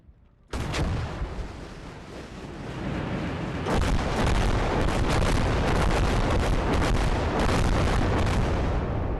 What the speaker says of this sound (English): that first salvo was very deadly, and I have a second one, which I'm about to fire right now